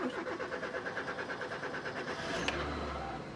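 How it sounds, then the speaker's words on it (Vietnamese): A 2002 Mazda 323 with a 1.6-litre petrol engine cranks with a rapid, rhythmic starter whir, then catches at the end and settles into a low idle, heard up close. "Em đề cái máy lên cho anh chị cùng xem ha."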